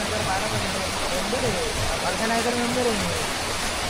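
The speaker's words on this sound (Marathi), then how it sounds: "हा पळसे धबधबा" Palse waterfall in Tamhini ghat roars as a dense, steady rush of falling water, loud and constant, while someone speaks over it.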